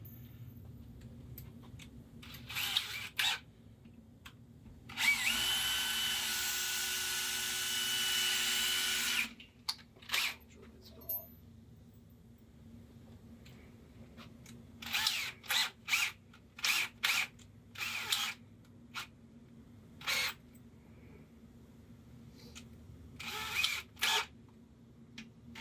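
A power drill bores out Best IC lock cores: one sustained whirring burst of about four seconds, then a series of short, sharp drill bursts and clicks separated by quiet gaps.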